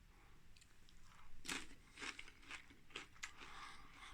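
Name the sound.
crunching a tortilla chip with chilli con carne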